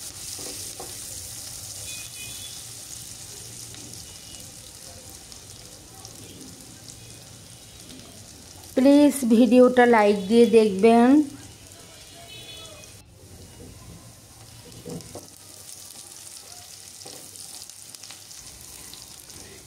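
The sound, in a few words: onions frying slowly in a pan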